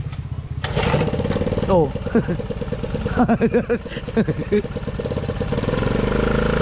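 Small boat engine running after carburetor work, a rough, loud, steady putter broken by several short bursts, with voices talking over it throughout.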